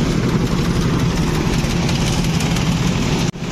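A JCB loader and tractor running at a construction site, a loud continuous rumbling engine drone with no let-up, cutting off abruptly near the end.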